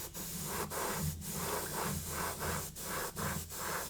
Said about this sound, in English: just what I like to do at the end is just to bring the airbrush back a little bit and just lightly go over the surface